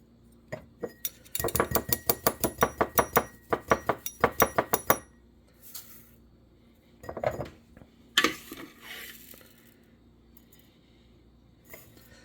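Ground cayenne pepper powder being scraped from the bottom of a container: a quick run of about fifteen sharp, rhythmic clinking scrapes, then a few scattered scrapes and knocks with quiet gaps between them.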